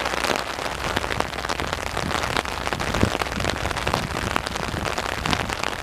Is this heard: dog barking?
no